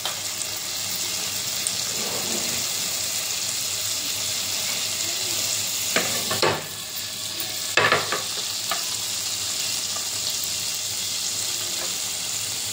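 Cumin and shahi jeera fry in hot oil with a steady, bright sizzle. A few sharp scrapes or taps of a spoon break through midway, and no one speaks.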